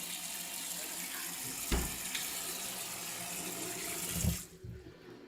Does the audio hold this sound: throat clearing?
no